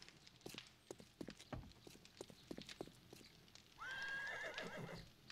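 A horse in 7 Days to Die walks with a series of irregular hoof clops, then lets out a clear, drawn-out whinny lasting about a second, all fairly quiet with no talk.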